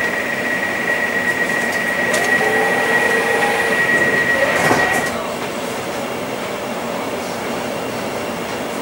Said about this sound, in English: This is the train to Shenfield.